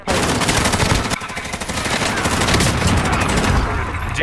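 Call of Duty video game gunfire: rapid automatic bursts rattle continuously at close range, dense and loud, with a short lull before the firing resumes.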